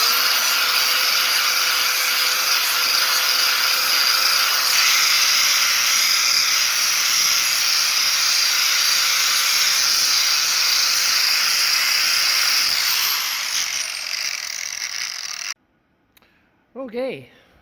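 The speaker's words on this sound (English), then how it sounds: "I'm just on getting the crud off here with my sanding disc." A steady, high-pitched grinding whine from a sanding disc grinding rust off metal runs loud and close for a long stretch, then cuts off, followed by a brief voice.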